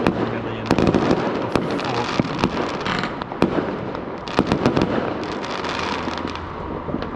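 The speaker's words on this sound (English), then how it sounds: "They're blowing so much money on fireworks." Bonfire Night fireworks bursting in rapid succession, with loud sharp bangs and crackling pops over a continuous roar while people talk nearby.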